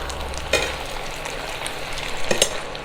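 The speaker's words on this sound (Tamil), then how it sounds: "இது அப்படியே பச்சை கருவேப்பிலை போட்டுட்டு அப்படியே ஒரு மிக்ஸ் பண்ணிக்கலாம்" Fresh green curry leaves being stirred into a pan of frying food, with a steady soft sizzle and a few brief scraping clinks of the spoon, close up, no talking.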